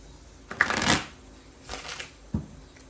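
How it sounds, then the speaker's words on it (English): Tarot cards riffled and shuffled by hand, one long close ruffling burst followed by a softer second shuffle and a sharp tap at the end. "Let me get one more shuffle here."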